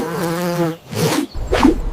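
A cartoon mosquito in an animated Kazakh folk tale whines with a high, steady buzz that breaks off, followed by two short soft thuds.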